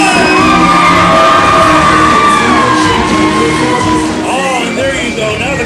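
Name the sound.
pro wrestling crowd cheering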